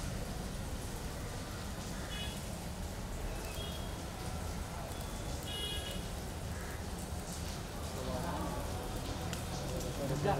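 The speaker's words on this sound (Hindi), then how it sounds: "बारिश आ रही है" Rain falling outdoors at a funeral gathering, a steady broadband hiss that continues throughout, with people talking over it.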